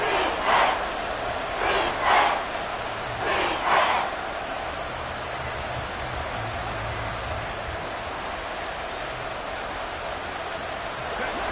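A football stadium crowd roars in a steady bed of noise, with three short louder swells of shouting near the start before it settles into a continuous murmur.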